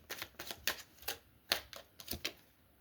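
Tarot cards snapped and laid down one by one from a deck, a quiet series of sharp, papery clicks and slaps in an uneven rhythm, close and faint.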